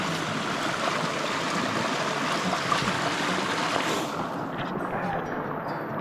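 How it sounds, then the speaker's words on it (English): Steady broadband rush of water flowing over a road, continuous and fairly loud, with faint voices in the background. "look, the water has come up over the road."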